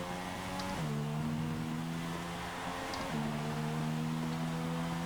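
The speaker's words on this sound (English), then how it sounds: "I can hear them now. They're coming down the straight." Distant race car engines drone and shift pitch as cars come down the straight, with a gear change partway through, steady and moderately faint, no talking.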